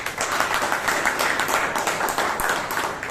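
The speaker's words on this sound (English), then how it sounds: "round of applause" Applause from an audience at a Toastmasters meeting, a dense, steady patter of many hands clapping together throughout, fairly close and even in loudness.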